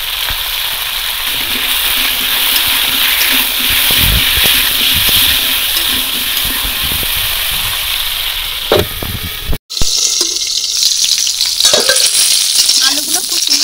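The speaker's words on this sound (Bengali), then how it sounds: "আমি প্রথমে মাংসের আলুগুলো ভেজে নেব।" Potatoes for a meat curry frying in oil in a large wok give a loud, steady sizzle. It is broken near the end by a brief cut and then stirring and spattering.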